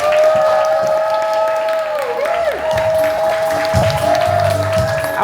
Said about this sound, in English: please give a big round of applause as we welcome Sarah Nabisi and the remarkable, inspirational, and extraordinary Jully Black